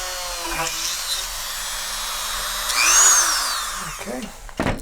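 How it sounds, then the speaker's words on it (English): A power drill whines as it bores a shear pin hole through a paper model rocket body tube. Its pitch swells and sags over a few seconds, and the drill stops abruptly at the end. "So I'm going to turn this on and drill away."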